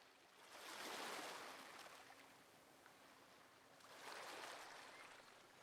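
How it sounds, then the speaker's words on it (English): A water monster in the Minecraft ReIndev game gives off soft, faint bubbling and breathy rushing, swelling up twice in slow waves with a quiet lull between. "It's just a load of bubbles and like a breathing noise."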